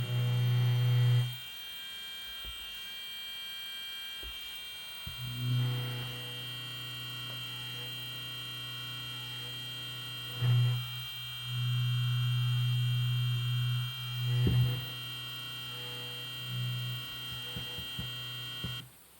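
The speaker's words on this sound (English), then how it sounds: "Mostly I think what you hear is the buzzer." A homemade index driver runs with its buzzer sounding in repeated steady tonal bursts of about a second or more, over a constant electrical hum from the motor, close and fairly loud.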